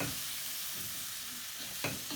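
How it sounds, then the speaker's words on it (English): Potatoes frying in hot spicy oil for a vegan curry, a steady close sizzle with light stirring, then a short scrape near the end. "And then I'm going to add my potatoes. Just to coat it in the nice spicy oil that's there."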